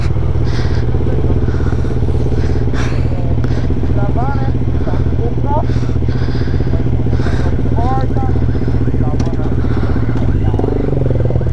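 Motorcycle engine running steadily with repeated rising revs, rough and close, with scattered clatter and a voice talking underneath.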